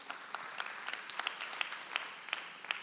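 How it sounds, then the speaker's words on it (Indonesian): A church congregation applauds, a soft, fairly distant patter of many hands clapping in loose unison with a few sharper claps standing out. "Boleh kasih tepuk tangan bagi nama Tuhan Yesus?"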